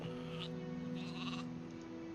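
A sheep in the video game Gothic 2 lets out a clear, sustained bleat that holds steady for about two seconds, close and unaccompanied by speech.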